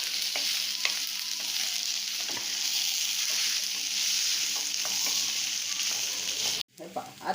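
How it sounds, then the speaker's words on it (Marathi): Potato bhaji filling stirred in a frying pan with hing added: a loud, steady sizzle with frequent utensil scrapes and taps, close up, then it cuts off abruptly near the end with a brief rattle. "आणि आता ही भाजी आपण याच्यामध्ये टाकू।"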